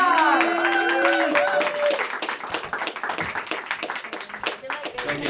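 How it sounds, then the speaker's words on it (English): Studio audience claps and applauds for a stand-up comedian being welcomed back to the stage at a cable access comedy show, a loud continuous burst of clapping that gradually thins, with voices and tonal sounds over the start. "Give him a big round of applause."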